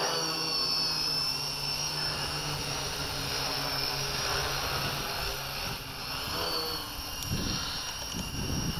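A quadcopter with a Naze32 rev 6 flight controller hovers with a continuous high-pitched motor and propeller whine that stays loud and steady throughout, with no voices.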